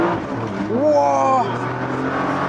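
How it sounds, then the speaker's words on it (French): A Nissan GT-R accelerates hard with wheelspin, the engine note rising as revs climb, heard from inside the car under a steady drone while people talk. "Ah ouais, effectivement, ça patine fort."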